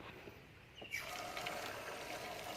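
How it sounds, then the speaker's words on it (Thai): Well water runs from a kitchen tap in a modern house, starting about a second in as a steady, fairly close hissing rush that continues evenly to the end. "น้ำไหลดีบ่"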